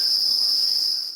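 Crickets on a cricket farm give a steady, continuous high-pitched chirring trill that holds at an even loudness, close and alone with no voices.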